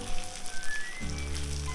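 Hilsa fish pieces fry lightly in a pan, a faint sizzle at first that swells into a louder, steady crackle partway through, with no one talking.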